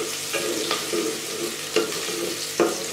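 Long-sliced onions frying in a pan for chana pulao, a steady close sizzle broken by several sharp scraping stirs of a spoon.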